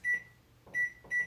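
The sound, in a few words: microwave oven beeping as it is set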